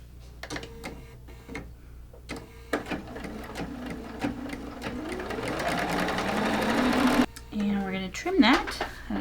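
A domestic sewing machine stitches a diagonal seam across layered quilt-block fabric in a steady run of short bursts that build into one long continuous stretch, with faint vocal sounds.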